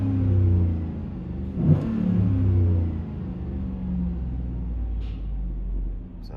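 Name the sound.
2015 Chevy Tahoe 5.3L engine revving through aftermarket exhaust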